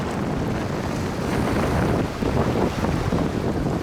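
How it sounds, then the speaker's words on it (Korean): Strong wind gusting over a rough sea on a stormy day along a Korean coast, a steady loud roar of wind and surf with buffeting on the microphone, no voices. "바람이 강하고 파도가 심한 날."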